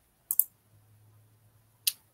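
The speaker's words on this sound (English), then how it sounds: "Sorry about all the clicking." Computer mouse clicking: a quick double click, a short pause with a faint low hum, then one more sharp click, close and isolated.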